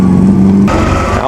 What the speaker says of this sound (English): Now this is 8-cylinder, but it's a Fiat V8.